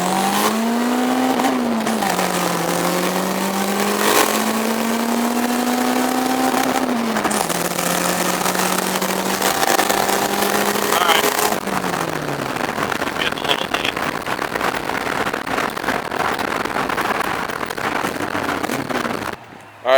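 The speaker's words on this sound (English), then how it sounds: "Alright, so just did the first pull. We're only at 4 PSI right now." A turbocharged Honda Civic on a boost pull at low boost, its engine note rising steadily through the gears with short dips at each shift, loud and close from inside the car, tapering off at the end.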